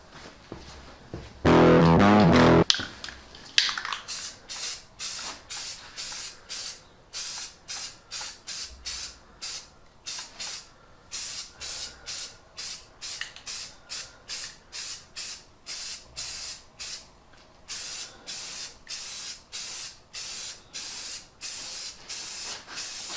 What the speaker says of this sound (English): go ahead and get our first coat of self-etching primer on all this stuff